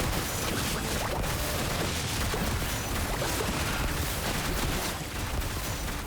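Clorinde fires her pistol attacks in Genshin Impact, a dense, continuous crackle of rapid shots and bursts that stays loud and even throughout, with no talking.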